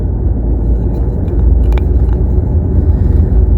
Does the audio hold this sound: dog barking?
no